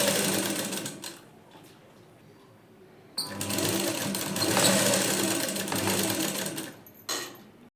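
A sewing machine stitches the front panel of a plain blouse with cross-patti invisible stitching. A short whirring run at the start is followed, after a quieter pause, by a long steady close-up stretch that stops near the end with a brief restart.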